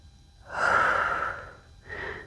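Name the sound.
breathing during yoga mobility exercise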